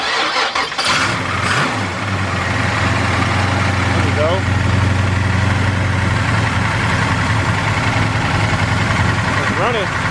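A 1974 Chevrolet Nova with a newly fitted carburetor cranks and catches, then settles into a loud, steady idle with a low rumble throughout. Voices speak over the running engine.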